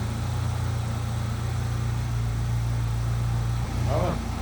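A car engine idles after an ignition coil repair, a steady low hum with an even throb close by, briefly interrupted near the end by a short voice.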